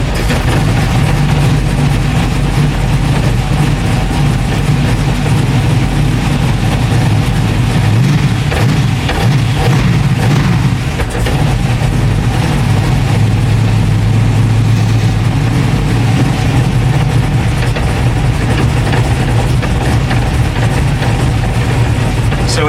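A 1965 Ford Mustang Fastback race car engine idles steadily around 1,000 RPM with a deep, rough rumble, holding a constant low throb throughout with occasional minor surges.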